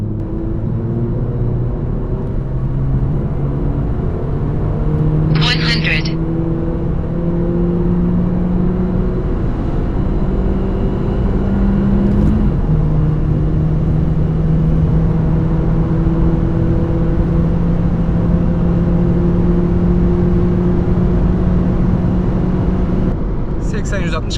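A tuned VW Golf 7 1.4 TSI with a hybrid turbo, Stage 3 with 225 hp, accelerating hard from third gear, engine pitch climbing steadily through quick upshifts with brief turbo blow-off bursts, loud from inside the cabin.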